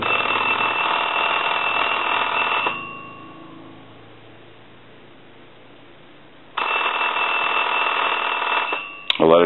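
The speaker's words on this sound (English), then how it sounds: "So we'll go ahead and ring it." A loud mechanical bell in a UK rotary desk telephone rings in two long bursts separated by a few seconds of quiet.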